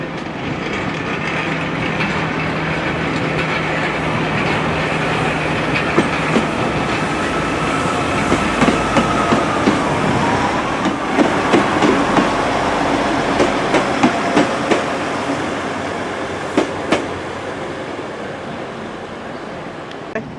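A Class 175 diesel multiple unit on a Transport for Wales service to Chester pulls into a station near Cardiff, a loud, sustained rumble with wheels clacking rhythmically over rail joints as it rolls past close by.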